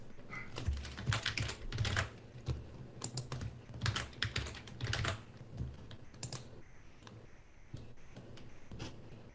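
Someone types a password on a computer keyboard in quick, uneven bursts of clicky keystrokes up close, with short pauses between runs and a low hum underneath.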